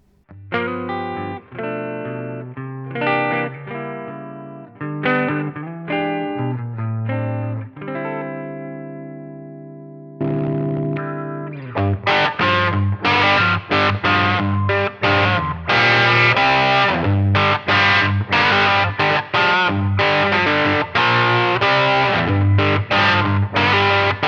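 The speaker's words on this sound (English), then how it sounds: "we've heard post-EQ mode 1 working with the bright scoop sound of the Fender Princeton reverb" Electric guitar through a Fender Princeton Reverb amp tone, playing chords and single notes with a bright, scooped sound, first sparse and ringing, then strummed louder and denser with a slightly driven edge.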